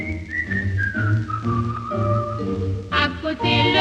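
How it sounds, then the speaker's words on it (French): A man fishing whistles a cheerful tune solo, a clear sustained melody with gliding pitch, close and unaccompanied by speech. "il sifflote une chanson."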